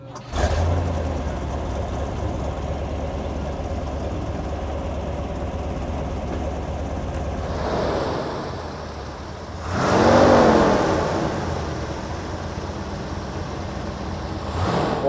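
A 1971 Chevrolet Corvette with a 454 LS6 V8 idles with a steady low rumble throughout, swelling into one brief rev near the end, with no talk over it.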